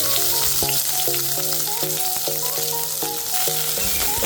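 Finely chopped onion with a little cumin frying in hot oil, a steady close sizzle with background music playing over it.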